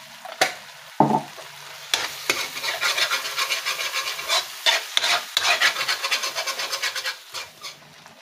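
Mushrooms frying in a pan are stirred with a utensil, giving rhythmic scraping strokes over a soft sizzle, close and clear with a few sharp knocks at the start.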